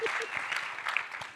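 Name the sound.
applause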